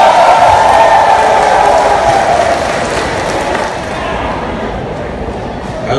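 A large hall audience applauds thunderously, a dense, continuous roar of clapping that is loud at first and eases slightly toward the end.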